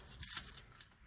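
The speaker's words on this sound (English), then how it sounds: "Okay, I found my keys." Keys jangle and clink in a few faint, short bursts close by, heard while preparing to cold start a car with a 6-volt positive-ground electrical system.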